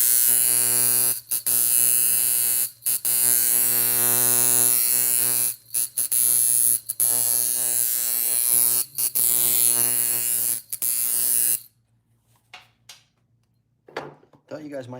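A rear-binder coil tattoo machine built on an old Micro Jones frame with 8-wrap coils buzzes loudly and steadily, cutting out briefly several times, then stops near the end, leaving quiet with faint handling noise.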